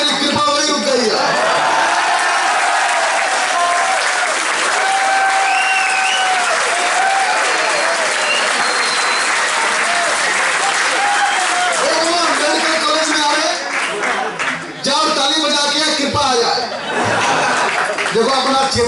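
An audience claps in sustained, loud applause mixed with scattered laughter, while people talk and call out over it throughout.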